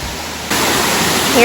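A waterfall near Helen, Georgia roars as a constant rush of water that jumps louder partway through and swells again at the end, with a voice briefly audible over it.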